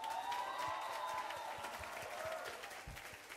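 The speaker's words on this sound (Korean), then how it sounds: "열심히 해준 테크와 퍼포머들에게 박수를 쳐주시길 바랍니다" Scattered audience clapping for the tech crew and performers at a school arts festival, fairly faint and thin, with a sustained musical tone or feedback hum lingering in the background.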